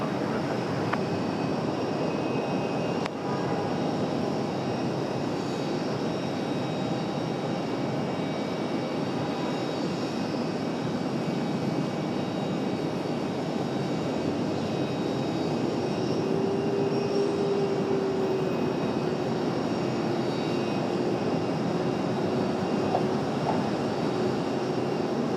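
An Air France heavy jet takes off from runway 23 right, a broad steady engine roar at a distance that holds for the full stretch, with a faint tonal whine rising late, no talk.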